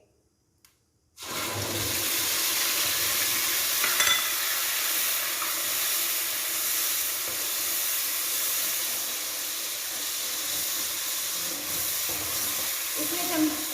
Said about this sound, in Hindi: अब हम इसमें प्याज और हरी मिर्चें जो हमने पीस कर रख ली थी अब हम इसमें शामिल करेंगे